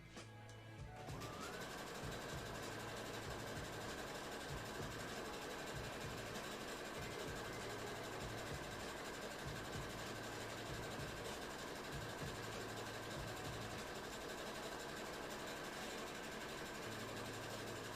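A sewing machine stitches fabric for a cosplay costume in a steady, continuous run of whirring for most of the stretch, faint and at a constant pace, with short pulses and pauses in the motor's rhythm.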